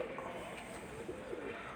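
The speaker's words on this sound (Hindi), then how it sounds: "ये मियाँ साहब के लाल परी कबूतर हैं जी" Lal Pari pigeons coo softly on a rooftop, low murmuring calls repeating over a steady background hum, fairly faint with no clear talking.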